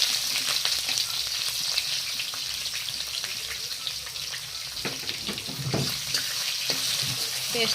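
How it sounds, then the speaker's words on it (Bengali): Chopped onion fries for a jackfruit curry in hot oil, giving a continuous loud sizzle with occasional stirring scrapes and clinks throughout. "অল্প লাল লাল করে ভাজবো"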